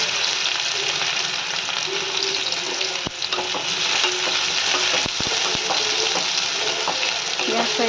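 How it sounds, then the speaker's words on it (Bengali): Chopped onion sizzles steadily in hot oil in a pan, a close, loud, continuous frying hiss with a few sharp clicks and taps of a spoon scattered through. "তেল গরম হয়ে গেছে, এবার দিয়ে দেবো আমি পেঁয়াজ কুচিটা।"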